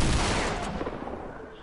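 Rapid gunfire in a video game, a dense burst of overlapping shots that is loudest at the start and then tails off into a rougher, thinner clatter.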